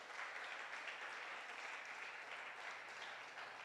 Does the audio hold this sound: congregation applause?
yes